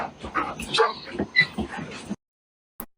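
An excited golden retriever yips and whimpers in quick, close bursts for about two seconds, then goes quiet, with one brief final yelp.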